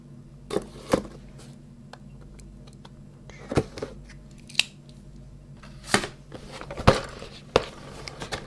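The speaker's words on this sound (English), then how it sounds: "Time for a cutting tool." Cutting tool slicing open the box of an Airfix 1/72 scale Northrop P-61 Black Widow model kit, a close series of sharp snips and cardboard clicks at irregular intervals over a quiet background.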